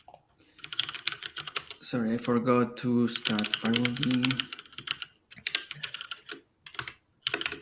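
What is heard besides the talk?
typing on a mechanical keyboard with Cherry Red switches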